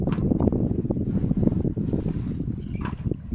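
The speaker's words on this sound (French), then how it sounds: "Toute petite brise sympathique qui nous propulse à 3 nœuds 5, 4 nœuds." A sailboat moving at three and a half to four knots in a light breeze, with a continuous low rush of water along the hull and wind buffeting the microphone, close and steady with no voices.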